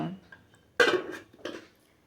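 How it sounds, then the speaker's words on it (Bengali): A lid set onto a pot of hilsa fish curry in mustard paste gives a brief clattering knock, followed by a second lighter metallic clink, close by with quiet gaps around them. "আমি একটা ঢাকনা দিয়ে এখন একটু ঢাকা দিয়ে দেব"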